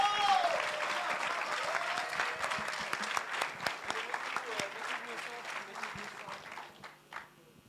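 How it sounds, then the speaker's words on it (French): A crowd applauds at the Vox Milo 2025 closing ceremony with dense clapping that gradually thins, and voices are heard over it. "On peut les applaudir encore une fois."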